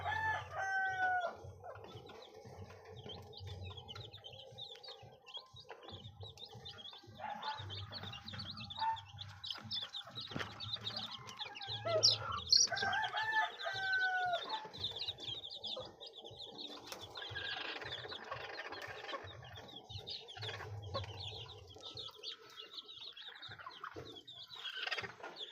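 Two White Kelso bloodline hens cluck softly and steadily, with occasional wing flaps and a rooster crowing in the background, at fairly low volume with no talk.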